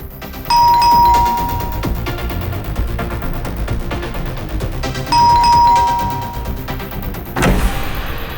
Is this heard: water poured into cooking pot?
no